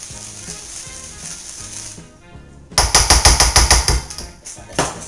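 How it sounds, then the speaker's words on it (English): A whisk beats vegan chocolate cupcake batter in a bowl, first as a soft steady swishing, then as a loud run of rapid rhythmic clacks against the bowl's sides, close by, with no talking. "So I'm going to give it a little bit of a whisk, and then I'll scrape down the sides"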